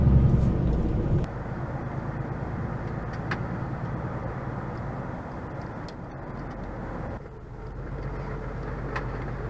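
A long-haul truck drives along the road with a steady low engine drone and tire roar from inside the cab, louder at first, then settling into an even rumble.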